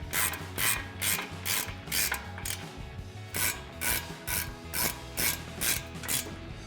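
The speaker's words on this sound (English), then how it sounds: "we'll tighten those down using our 15mm socket" Ratchet wrench with a 15mm socket tightening brake bolts on a 2005-2010 Mustang, a steady run of about a dozen sharp clicking bursts in even rhythm, close and loud, with no talking.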